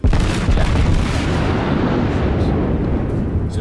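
Battleship main guns firing shells in the naval video game World of Warships, a heavy booming roar that fills the clip and rumbles on, loud and close.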